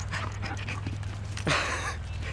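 A dog pants steadily and close by, with quick breathy bursts and a sharper snort near the end, heard alone in a garage workshop while DIY car ramps are being built.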